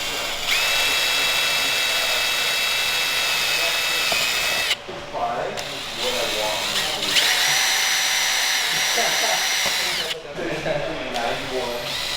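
A power drill bores new mounting holes for a GT4 front lip on an E92 BMW M3, whining in long steady bursts with brief pauses between them, close and loud, while people talk over and between the runs.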